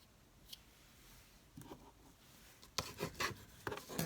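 A glued paper craft piece is burnished by hand, giving a few close, dry rubbing and scraping strokes that grow louder and more frequent toward the end, with no talking.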